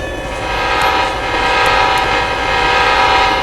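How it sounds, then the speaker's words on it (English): A train horn blows in a train and rail yard simulator game, one loud continuous blast with rumbling engine noise lasting throughout. "I'm somehow blowing the horn outside the cab."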